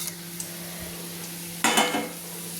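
A bay leaf, a spoonful of whole cumin and two dried red chilies tempering in hot oil for a spicy chicken dish, a low quiet sizzle with a steady hum, then a brief burst of stirring and scraping near the end.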